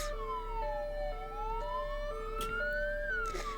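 Police sirens in a video game wail continuously, one tone sweeping slowly up and down while another alternates between two pitches, steady and fairly loud with no talk.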